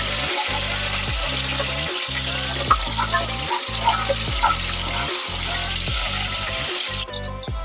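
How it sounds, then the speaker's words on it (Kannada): Onion sizzling and frying in hot oil for a beef phal masala gravy, a steady loud crackling hiss with periodic stirring scrapes and chopping-like pulses through the clip. "ಒಂದು ಮೀಡಿಯಂ ಸೈಜ್ ಈರುಳ್ಳಿ ತಗೊಂಡು ಹಾಕೊಂಡು ಒಂದು ನಿಮಿಷ ಫ್ರೈ ಮಾಡ್ಕೊಳ್ಳೋಣ"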